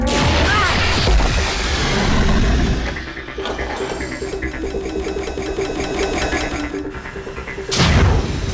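Cartoon gunfire from the Code Lyoko animated series comes in fast mechanical volleys of rattling, buzzy laser-like shots, with loud bursts near the start and end and steady repeated pulses between them.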